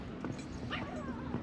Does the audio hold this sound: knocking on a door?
no